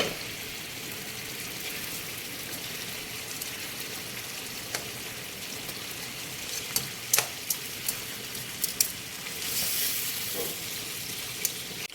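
A second batch of chicken pieces fries in a pan for a creamy mushroom and broccoli dish, giving a steady broadband sizzle with scattered sharp pops and crackles that grow busier toward the end, with no talking.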